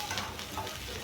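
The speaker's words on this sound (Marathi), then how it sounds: "आता आपला कांदा चांगला सोनेरी रंगावरती येईपर्यंत भाजलेला आहे" Chopped onion frying and being stirred in a pan until golden, a soft continuous sizzle with faint scraping that stays low and steady for about a second.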